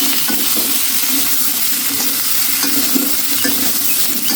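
Vegetables frying in a pan of oil for a Bengali mixed small-fish curry, with steady close sizzling and occasional stirring scrapes, no voices.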